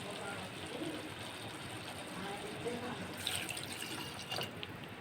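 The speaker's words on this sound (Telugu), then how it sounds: "ఇప్పుడు కొంచెం దీన్ని వాటర్ పోసుకుంటే కొంచెం బాగా ఉడుకుతుంది." Water trickles and splashes into a cooking pot at home, a faint continuous pouring sound with small drips, heard alone at low volume.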